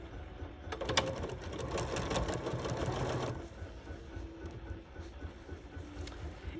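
A sewing machine stitches a quilt block seam in a fast, steady mechanical whir for a few seconds, then stops, leaving quieter room noise and faint handling.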